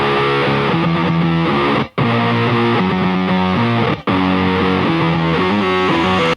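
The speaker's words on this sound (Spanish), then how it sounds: "Está padre la distorsión." Heavily distorted electric guitar riffs from a rock song, thick and bright, played loud with the full band hitting unison stabs, briefly cutting to silence twice before crashing back in.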